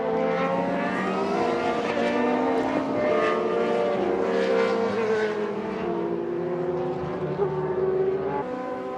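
Vintage race car at an SVRA event at Indianapolis roaring past, a loud, sustained engine note that swells and then eases as it goes by.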